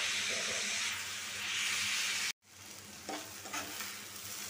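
Vegetables fry in a pan with a loud, hissing, steady sizzle. It cuts out for a moment, then resumes with some stirring scrapes.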